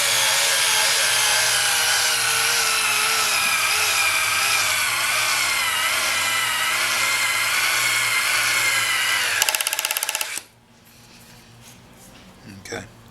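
Hitachi DB3DL 3.6-volt cordless screwdriver drives a thick deck screw with a Phillips bit, giving a steady, wavering motor whine for about nine seconds before stopping, followed by faint handling noise.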